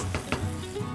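A pepper marinade mixture for fried tofu with shrimp sambal being stirred by hand, giving a close, wet, hissing swish with a couple of quick scraping strokes.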